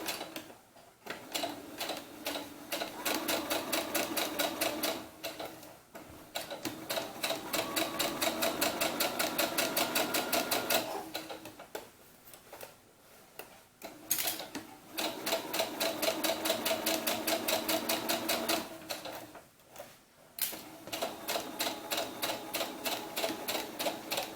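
A sewing machine stitches a seam on a small doll's sunsuit, close and fairly quiet. Long runs of rapid, even ticking are broken by short pauses as the stitching stops and starts again.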